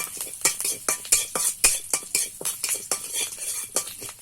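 Curry leaves tossed into hot oil crackle lightly while a spoon stirs and scrapes briskly against the pan, producing a rapid run of close, clinking metal strokes.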